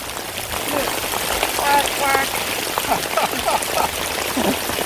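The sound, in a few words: rain falling outdoors while fishing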